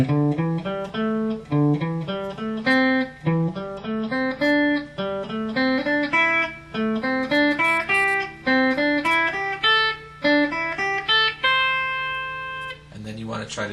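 Single picked guitar notes climb and fall through a repeating scale sequence in steady groups, each note clear and close, running continuously for about fourteen seconds with a brief pause near the end.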